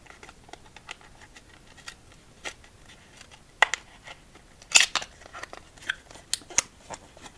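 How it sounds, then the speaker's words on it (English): Plastic wrap torn and peeled off a deck of playing cards, close and quiet, with irregular crinkles, scratches and sharp crackles that grow denser and louder midway. "Let's get into this plastic and open up these cards"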